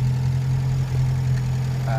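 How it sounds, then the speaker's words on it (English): A 1946 Austin 16 car engine idles steadily and close by, a smooth continuous low hum with no revving, heard alone without talk. "Started the engine."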